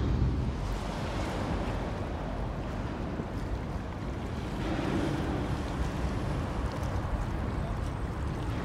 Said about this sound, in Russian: Принимается волна, нас начинает прям сносить